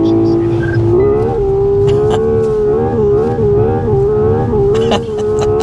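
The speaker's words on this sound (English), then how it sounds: "That's the rev hanging." Hyundai IONIQ 6 N electric car's synthetic virtual gear engine sound, held at high revs: a loud, droning, growling engine tone that hangs steady with slight wavering pitch, heard from inside the cabin with faint voices beneath.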